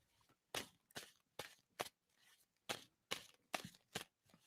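Tarot cards being shuffled by hand, a series of sharp riffling snaps in uneven bursts, close and fairly quiet with short pauses between shuffles.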